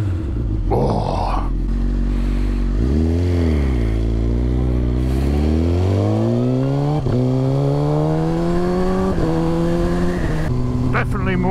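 A Suzuki K8 GSX-R1000 motorcycle engine revs after an ECU flash, loud and close, with several rising and falling sweeps over a steady idle and brief sharp blips, with a few voices heard over it.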